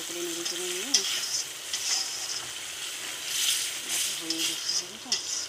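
Pointed gourd curry is stirred in a pan after sugar goes in, giving a soft sizzle and scraping stir strokes beneath someone talking.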